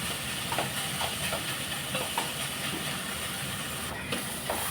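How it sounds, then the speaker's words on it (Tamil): Tomatoes sautéing in a pan for egg kurma give a steady, moderately loud hiss, like continuous steam, with small scattered crackles throughout and no talking. "இப்போ தக்காளி நல்லா வதங்கட்டுங்க."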